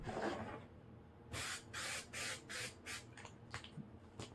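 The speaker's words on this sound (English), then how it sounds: "we're going to hit it with the spray glue." Spray glue from an aerosol can hitting fabric, a series of about six short hissing bursts in quick succession, then softer sputters, close and clear with no talk.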